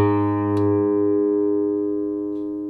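A single sustained note rings out on an Alhambra flamenco guitar with a solid spruce top and solid cypress back and sides, clear and rich with harmonics, decaying slowly and played alone.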